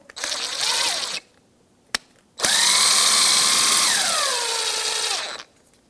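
Power tool with a 12mm socket backing out a long bolt on a 2004-2009 Subaru Outback during an A/C belt tensioner pulley job: one short whirring burst, a click, then a longer loud whine that slows as the bolt frees.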